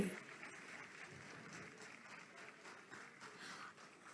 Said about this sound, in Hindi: जोरदार ताली लगातार बजती रहनी चाहिए